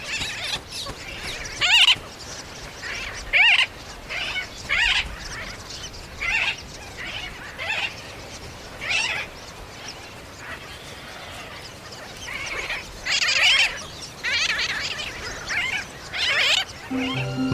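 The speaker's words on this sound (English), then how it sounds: "the sooty terns now have chicks to protect. They fly low over any intruder, squawking their indignation." Sooty terns squawk in repeated harsh bursts while flying low over their chicks on open hillsides, calls coming in clusters at varying distances with brief gaps between them.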